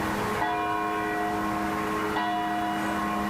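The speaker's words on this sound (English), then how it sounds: "the bells at St. Thomas of Villanova were ringing in celebration of one of their own" Church bells of St. Thomas of Villanova ring in celebration of a new pope, their sustained tones overlapping at a moderate distance, with a fresh strike midway through and no voices.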